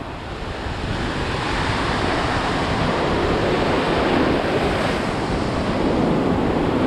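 Ocean waves of the Atlantic break steadily onto the shore at Daytona Beach, Florida, a continuous loud roar of surf with wind buffeting the microphone throughout.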